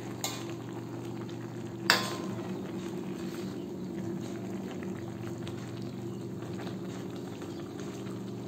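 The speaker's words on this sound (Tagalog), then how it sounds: "kumukulo na, haluin natin ito para hindi masunog yung ilalim" A pot of ginataang tangkay ng gabi with pork, taro stalks simmering in coconut milk, bubbles steadily with a low boiling hiss, and one brief utensil clink against the pot early on.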